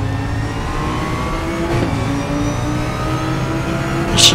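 RaceRoom race car engine pulling out of a corner, a steady loud drone with pitch climbing gradually through the gear, close and continuous, ending with a brief high whine.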